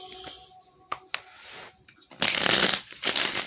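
A tarot deck is shuffled close up: a few light taps, then a loud riffling burst and a shorter second riffle.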